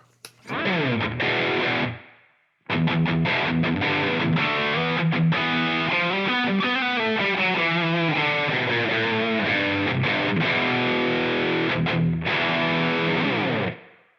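A heavily distorted electric guitar through a Line 6 POD Go Soldano Lead preset plays sustained chords with a bright reverb tail, pausing once briefly before continuing loud and alone.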